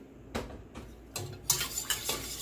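Warm milk whisked into a soup base for homemade condensed cream of chicken soup, a few scattered clinks and scrapes of a whisk against a pot, close and fairly quiet, with no voices.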